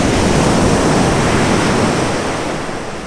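Ocean surf at Waimea Beach on Oahu's North Shore, a loud continuous wash of breaking waves with wind noise, easing slightly toward the end.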